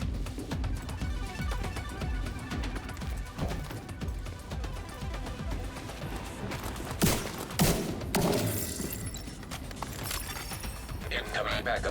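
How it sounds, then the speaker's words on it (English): Submachine gun fire in the Division 2 video game, with continuous rapid bursts of shots and thumps packed tightly together under a steady game soundscape. Someone talks over most of it, and a few sharper impacts stand out near the end. "then I take him out with the submachine gun just for the DPS of that"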